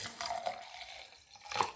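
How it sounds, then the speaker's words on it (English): Water poured over chia seeds splashes and trickles briefly, a close, fairly quiet pour with a short drip-like burst near the end. "Just pour some water over it."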